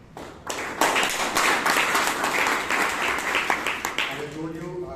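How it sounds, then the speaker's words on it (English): A Toastmasters meeting audience in Bangalore claps in sustained applause for several seconds, dense and steady, fading slightly toward the end as a voice starts to come through. "another big round of applause for our general evaluator and the other evaluators we had."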